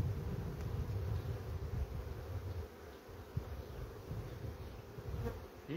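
Honeybees buzzing steadily around an apiary hive, a dense close drone that holds evenly through the whole stretch with a brief dip in the middle.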